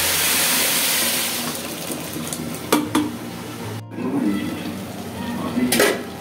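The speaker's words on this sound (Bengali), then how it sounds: "চার পট চালে আমি সাত পট জল দিচ্ছি।" Water pours into a cooking pot of pilaf rice that already holds salt. A steady, close rushing pour runs for a few seconds, followed by a few clinks and stirring noises.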